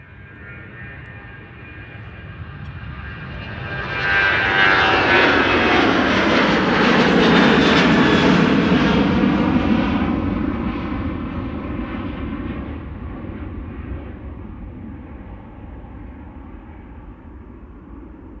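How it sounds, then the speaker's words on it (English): Cargolux Boeing 747 engines running at Amsterdam Schiphol Airport on a sunny morning, a loud sustained roar that swells to a peak midway and then slowly fades, heard from a distance with no talk. "the Cargolux 747 that W was alluding to a couple of minutes ago has also turned on"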